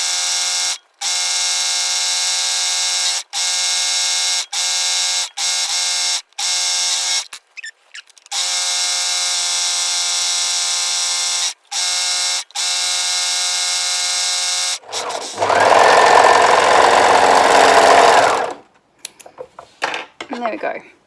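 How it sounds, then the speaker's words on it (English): A sewing machine stitches a decorative fancy stitch along fabric, a steady high mechanical whir running in bursts broken by short pauses, followed by a louder, rougher burst near the end. "I'm going to set my machine to its fancy stitch, and I'm going to sew around the top and the bottom"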